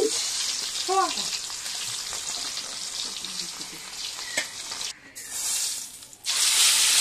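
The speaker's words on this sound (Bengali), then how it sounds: "এরপরে মাছ যেগুলো আছে সেগুলো ভেজে নেব" Koi fish frying in hot oil for a potato-tomato curry, a steady close sizzle with crackling bursts running throughout, with a brief dip near the end and a voice heard faintly at the start.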